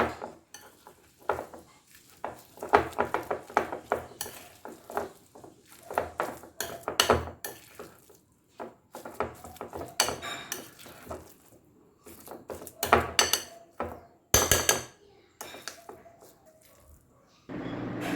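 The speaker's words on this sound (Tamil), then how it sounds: "நீங்கள் ஸ்லோலி அந்த 3 இன்க்ரீடியன்ட்ஸும் நல்லா மிக்ஸ் ஆகிற மாதிரி நீங்கள் மிக்ஸ் பண்ணணும்" A spoon clinks and scrapes around a bowl as three garlic butter spread ingredients are slowly mixed, giving irregular close tapping and scraping strokes with brief pauses and no talking.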